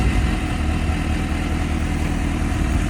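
Suzuki GSX-S750 motorcycle with a 2017 standard exhaust and an inline-four engine idling, a steady, close, low rumble throughout with no talk.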